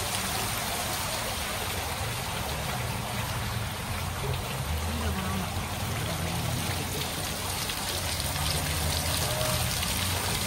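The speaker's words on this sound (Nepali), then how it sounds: "हेर्नु न यहाँ वाटरफल्स कस्तो दामी छ" Decorative waterfalls in Lusail, Qatar pour in a steady, continuous rush of falling water, a dense outdoor splashing that holds level throughout, with low rumble beneath.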